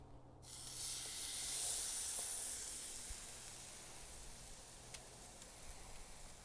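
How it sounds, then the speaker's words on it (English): Oil sizzling and hissing in a cast iron pan heated to around 400 degrees on a Hasty Bake grill firebox, a steady soft broadband hiss that swells slightly then settles, with a few faint pops. "Listen to this sizzle."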